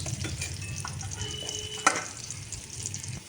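Pointed gourd and prawns fry in oil in a pan with a steady, soft sizzle, and a single utensil clink rings out partway through. No one speaks.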